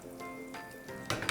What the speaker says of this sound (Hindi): अब देखिए पैन के अंदर वही ऑयल है, उसके अंदर हम डालेंगे थोड़ी सी हींग